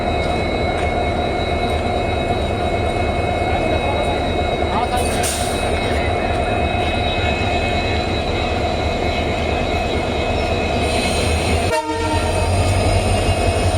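An Indian weekly express from Yesvantpur toward Mangalore, hauled by a Hubli-shed WDG4 diesel locomotive, rumbles past with a constant loud roar of engine and rolling wagons, and a short horn blast comes near the end.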